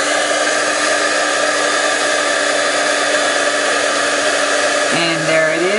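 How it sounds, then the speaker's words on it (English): A handheld embossing heat tool blows a steady, loud whir as it melts embossing powder on a greeting card, the tone holding constant and shifting slightly near the end as the tool is moved. "I'm going to set it with my heat tool"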